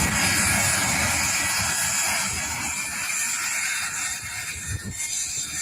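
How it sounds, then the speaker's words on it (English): Strong wind buffets an old camera's microphone outdoors, a loud, continuous low rumble and hiss that fills the whole clip without pause, with no speech. "Sorry about the wind."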